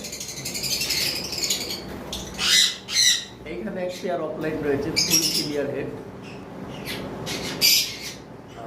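Pet lovebirds, including albino birds shown for sale, squawk in loud harsh bursts near the microphone, separated by brief pauses, while someone talks over them almost the whole time.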